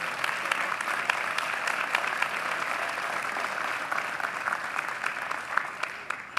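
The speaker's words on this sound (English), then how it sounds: "let's give our retiring faculty a round of applause for a job well done" A commencement audience at Morehouse College gives a steady round of applause for retiring faculty, a continuous, moderately distant patter of many hands that holds even throughout without pause.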